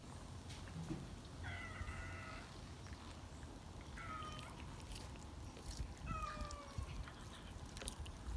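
A calico cat meows three times, faint and spaced a couple of seconds apart, each a wavering drawn-out cry over a low outdoor hum.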